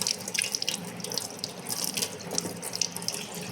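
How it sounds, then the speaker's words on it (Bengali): Hands being washed under a running kitchen tap, a steady close splash of water into a sink with small irregular drips and spatters, heard alone without talk. "হাতটা ধুয়ে নিই।"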